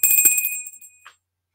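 A bright metallic bell rings out with a shimmering tone that decays over about a second, followed by a faint tap.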